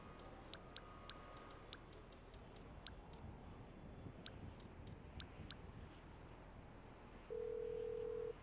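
A ringing phone call in GTA 5 Online plays as a quiet series of repeated electronic beeps and ticks over a hiss, then a steady dial-like tone at the end.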